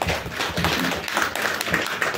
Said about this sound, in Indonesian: Jadi tepuk tangan untuk kita semua.